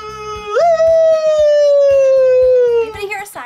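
A voice imitates a siren with one loud, sustained rising-then-slowly-falling wail lasting nearly three seconds, during a mystery drink challenge with clattering and movement around it.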